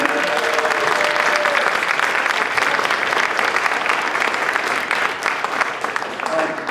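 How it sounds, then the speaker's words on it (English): Sustained applause fills a crowd at a civil rights restoration awards event, steady dense clapping throughout with a few voices cheering underneath. "give the Jewish Community Action Team a big round of applause from over here"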